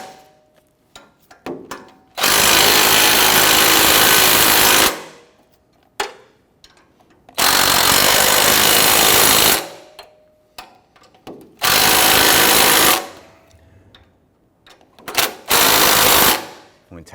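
A power tool tightens catalytic converter flange bolts on a 2005-2021 Nissan Frontier, running in three long, loud bursts of several seconds each with short pauses and brief talk between them.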